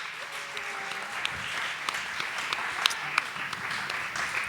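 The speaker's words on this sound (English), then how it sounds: "Thank you so much for round of applause for the supporters." Audience applause for supporters at a live show with friends, steady clapping from a crowd with a few sharper individual claps and whoops standing out near the end.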